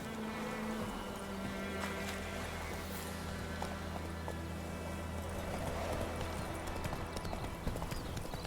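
Roach, the horse in the video game The Witcher 3, galloping with a fast, steady run of hoof clip-clops over game music and ambience, moderately near and continuous.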